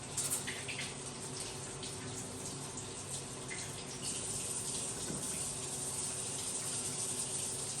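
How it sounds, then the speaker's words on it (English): A kitchen tap runs steadily while hands are washed, a soft continuous splash and gush of water into a sink, close and fairly quiet with no talk. "Let me wash my hands again."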